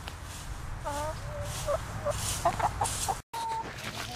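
Chickens, including a barred rock, clucking and giving short, pitched calls in a run over a low rumbling background, with a brief dropout near the end.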